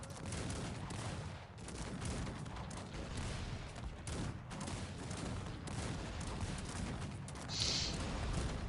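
Cannon fire rumbles through a dense, continuous real-time battle din in the video game Cossacks 3, blended with massed musket volleys and steady gunfire; the noise stays loud and unbroken throughout, with no speech.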